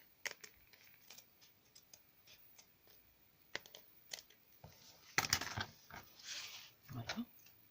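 Scissors snip through paper while assembling a handmade Memorydex, a run of sharp crisp cuts and rustling near the microphone with a brief burst of louder cutting later on; a voice speaks quietly at times.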